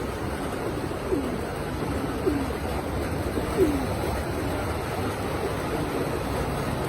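Domestic pigeons coo in a few soft, low calls spaced across the stretch, steady background hiss beneath them, with several young birds and males and females kept together in a loft.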